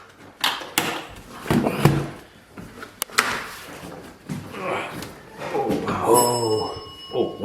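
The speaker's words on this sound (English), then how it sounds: "that's the doorbell." A doorbell rings near the end inside an abandoned 1850s mansion, a bright chiming tone with ringing overtones, after a stretch of knocks, thumps and muffled voices.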